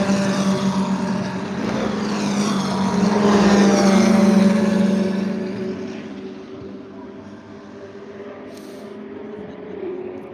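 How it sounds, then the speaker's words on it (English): A BMW race car passes trackside at night at Le Mans, its engine note swelling to a loud peak as it goes by, then fading into the distance while another car's engine drones faintly behind. "that must be a BMW"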